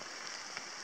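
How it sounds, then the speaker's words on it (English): Steady rain falls on a forested campsite at Foster Brook in Fundy National Park, a dense, even patter of drops close by with no talking. "It's still raining"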